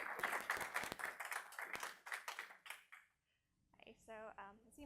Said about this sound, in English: Yes, it is okay to clap.